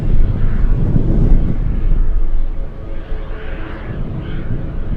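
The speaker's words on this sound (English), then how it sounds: "I'm hearing something power up out there by Lake Hood. Looks like we're gonna have another Beaver takeoff." A de Havilland Beaver floatplane engine powers up for takeoff at Lake Hood in Anchorage, a steady, distant low rumble that holds for a few seconds and then eases slightly.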